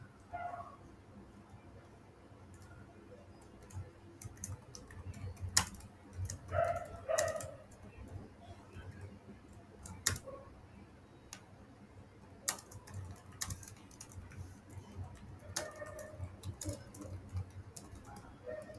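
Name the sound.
typing on a computer keyboard, writing a Facebook caption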